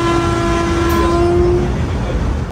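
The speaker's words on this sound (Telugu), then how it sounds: "సేమ్ వందే భారత్ రెండు ఒకదాని ఒకటి అయితే క్రాస్ అవుతున్నాయి, చూడొచ్చు." Two Vande Bharat express trains cross each other on the Secunderabad to Visakhapatnam line, a loud, close, steady roar of rushing carriages with a sustained horn tone running through most of the passage.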